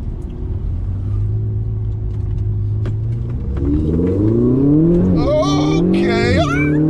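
Ferrari 488 GTB's rear-mounted engine heard from inside the cabin during a ride at a Supra meet, a steady low drone that climbs into a loud, rising rev toward the end.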